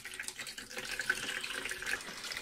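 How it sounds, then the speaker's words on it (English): Tap water running over an 8-inch Soligor MT-800 Newtonian telescope mirror as it is rinsed, a soft, steady splashing trickle heard close and fairly quiet. "I'm taking it under the water, tap water again"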